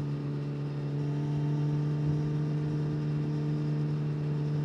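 A Suzuki GSX-S1000 GT sport-touring motorcycle accelerating out of a bend, its engine giving a steady, fairly loud mid-pitched drone with a strong low hum, heard from the rider's position and holding even throughout.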